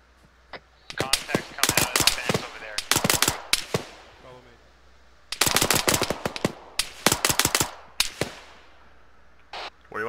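Bursts of rapid gunfire crack in clustered volleys of sharp, loud shots, separated by brief pauses and a few isolated single shots, during a drug bust mission; a voice briefly talks in between.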